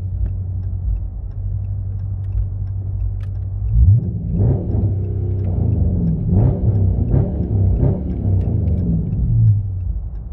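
A 2021 Dodge Charger R/T's engine idles with a deep, loud rumble, then gets revved several times in rising surges, close by.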